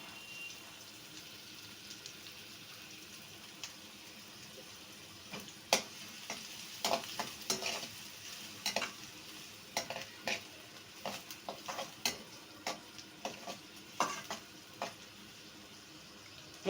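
Grated vegetables, cabbage first, sautéing in a pan for stuffed bun filling, a faint background sizzle broken by irregular, clattering stirs of a spatula that grow more frequent partway through.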